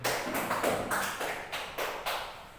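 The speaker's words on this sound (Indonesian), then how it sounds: "Beri aplaus dulu untuk si Dani." A small group claps in a classroom, a few loose, uneven claps, moderately near, that trail off over a couple of seconds with no talking over them.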